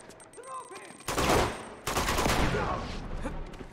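Pistol gunfire in Uncharted 2 during a firefight: two loud, sharp broadband blasts about a second apart, each trailing into a noisy decay, with faint game ambience before them.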